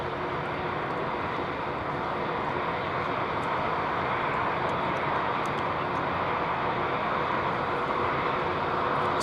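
An Airbus A320ceo jet passes at London Heathrow, a steady broad engine rumble and hiss holding at moderate level throughout without any clear rise or fall.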